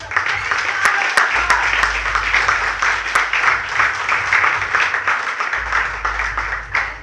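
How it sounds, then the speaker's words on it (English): Contest winners at a Toastmasters speaking event are applauded by the audience, with steady moderate clapping throughout, a few sharp louder claps standing out, and a low hum underneath. "So all the winners, please give yourselves a big round of"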